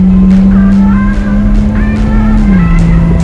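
A BMW E90 with a 3.0 engine idling nearby, a steady loud hum that drops slightly in pitch near the end, with faint higher whines coming and going.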